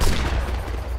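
Musket volley fire rattles out in a Napoleonic Wars battle game as a brief burst of overlapping crackling shots, loud and dense over about a second.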